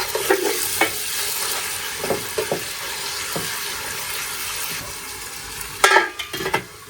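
Onions and tomatoes sizzling steadily in a pan for Guntur-style fish curry, with a spatula scraping and stirring in short bursts, close and fairly loud, no talking.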